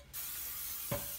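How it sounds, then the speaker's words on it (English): Cooking spray hisses onto a heavy frying pan for a sustained burst of about a second, close and fairly loud, with a brief extra puff near the end. "I'm gonna spray down my pan."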